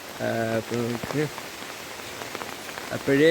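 Heavy rain pours down around a house, a constant dense hiss of drops on surfaces running under a man's nearby speech.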